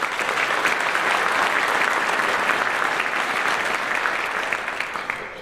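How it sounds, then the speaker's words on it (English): Sustained applause from an audience at a high school academic scholar night honoring students, steady and full for several seconds before tapering slightly at the end. "I think we just need to give another round of applause to these amazing kids up here."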